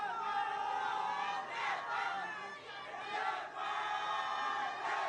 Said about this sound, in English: And the crowd has been involved right throughout this fixture.